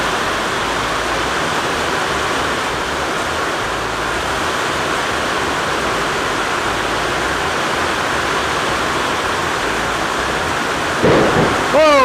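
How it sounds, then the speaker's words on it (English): Heavy rain and wind storm roars steadily and loudly as a continuous dense wash, with a brief sharper burst near the end. "This rain and wind. I got water in at my feet now. It's so heavy,"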